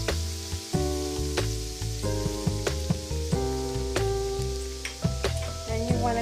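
Minced garlic sauteing in a pan as the base for a white pasta sauce, a steady soft sizzle broken by regular clinks of a utensil against the pan, close and continuous, with no talking.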